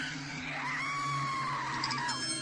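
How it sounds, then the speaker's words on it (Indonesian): A drawn-out, wavering scream rises and holds near and loud over a steady low background hum, standing alone with no talk, as a shriek from inside a house in a horror tale. "terdengar jeritan"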